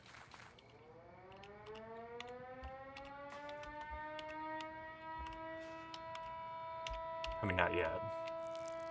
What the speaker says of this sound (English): Also, that's an air raid siren.